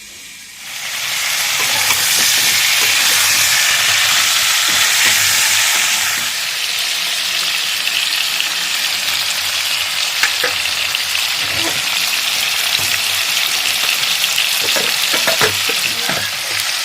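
Dalia (broken wheat) with vegetables, potol, long beans, potatoes, mung and matar dal frying and being stirred in a pan, a loud steady sizzle that eases slightly after a few seconds, with scattered clinks and scraping throughout.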